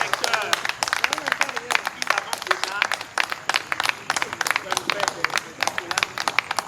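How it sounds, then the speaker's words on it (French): A performance audience claps steadily in a dense, sustained round of applause, with crowd noise and a voice talking over it. "Nous maintenant, on va applaudir pour vous, public."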